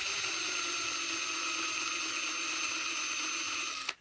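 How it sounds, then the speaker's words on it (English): Power drill boring into a plastic car trim clip holding two panels together, a steady high-pitched whine held for about four seconds and then stopping abruptly, close up with no talking. "I'm actually trying to drill into the clip that holds the two pieces together right now."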